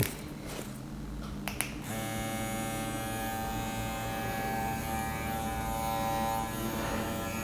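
A Bronc V12 Max tattoo machine runs with a steady, quiet electric buzz and low hum, holding an even tone throughout after a couple of brief clicks at the start.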